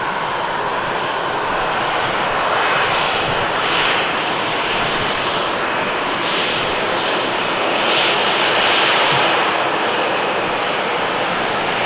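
A SunExpress airliner in special livery taxiing past at Manchester Airport, its engines a steady, loud, broad roar with a high whine that swells and fades slightly as it rolls by, nearby and alone.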